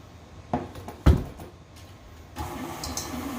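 Near the end, an electric mixer starts up on low speed, beating soft room-temperature butter with sugar into a steady whir, after a few knocks and clunks.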